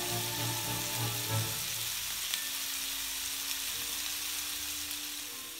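Filet steaks frying in a pan, a soft continuous sizzle with crackling close by, fairly quiet and steady, with a low hum under it early on that fades away.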